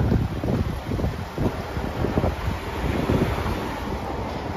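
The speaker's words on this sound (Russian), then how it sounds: "Ветерок такой дует." Steady wind gusting across the microphone outdoors on a cool day during a road trip, a continuous loud rumbling roar with fluctuating buffeting and no speech.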